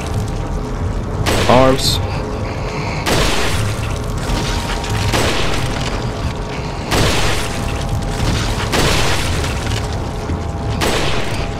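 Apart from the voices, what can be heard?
gunshots in the video game Resident Evil 4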